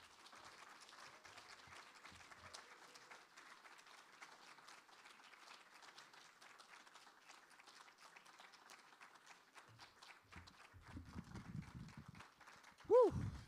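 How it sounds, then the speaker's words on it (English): An audience at a faculty presentation applauds steadily for about ten seconds, a soft, even wash of many hands at a modest distance. Then a voice rises over the fading claps. "More applause for Jessica Jacobs."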